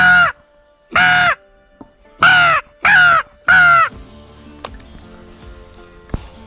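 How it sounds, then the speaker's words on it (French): Carrion crow circling overhead, giving five loud, harsh caws in an uneven rhythm close by, followed by quieter rustling and faint clicks, with no talk. "j'ai à peine le temps de poser la caméra qu'une corneille tourne déjà"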